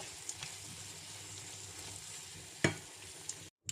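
A little coconut milk is stirred into a bitter gourd dish in a pan, producing a soft, steady simmering sizzle with one clear utensil knock near the end, quiet and close, with no voices.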